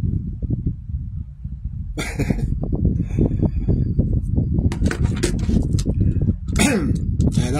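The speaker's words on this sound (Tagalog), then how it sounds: "Huwag nyo na kasi batiin yung akong ubo-ubo." A few short, rough coughs break through steady background noise, close to the listener, with a louder cough burst near the end.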